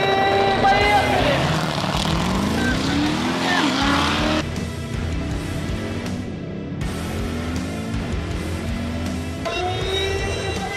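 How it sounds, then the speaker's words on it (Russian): Mercedes-AMG E63s and Corvette Z06 launching side by side in a drag race, with loud engines revving hard and climbing through gears, tires briefly squealing, the roar easing slightly before surging again. "Все, готово, поднимаются обороты, поехали!"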